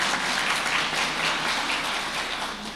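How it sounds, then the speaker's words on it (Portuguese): A crowd applauds steadily for nearly three seconds, a dense, even wash of clapping with no voices above it. "Uma salva de palmas para vocês também."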